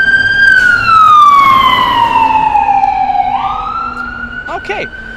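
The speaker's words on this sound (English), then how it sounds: "There's an ambulance come by that we're gonna hear in just a moment" An ambulance siren passes on a street in Georgetown, Washington DC, loud and close, with its wail sliding steadily downward as it goes by, and then traffic noise follows.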